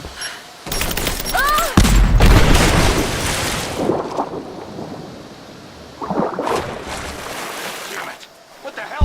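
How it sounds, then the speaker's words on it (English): A grenade detonates in the video game Rise of the Tomb Raider, giving a loud broadband blast with a rumbling tail, followed by softer bursts of noise and faint voices in the background. "Throwing a grenade."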